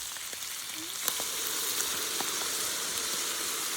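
Fish sautéing in a pan with coconut milk for Filipino nilatik na isda, a steady close sizzle and crackle with occasional light clicks of stirring, no voices.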